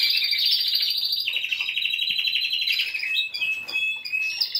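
Young male songbirds, still learning and refining their song, sing high bright chirping phrases close by, one continuous run of varied notes without pause.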